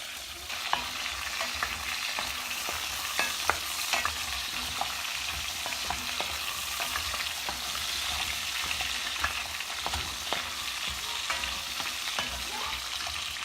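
Chicken browns in a hot pan with a steady close sizzle and crackle, broken by scattered sharp pops and occasional utensil scrapes, running continuously with no voices.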